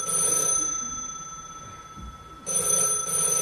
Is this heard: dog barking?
no